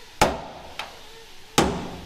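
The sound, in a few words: center punching a bolt hole with a hammer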